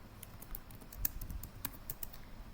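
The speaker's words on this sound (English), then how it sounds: "So I'll just type in," Sparse, quiet keystrokes on a computer keyboard as a prompt is typed into ChatGPT: irregular light clicks, one slightly sharper tap, over a soft background hum.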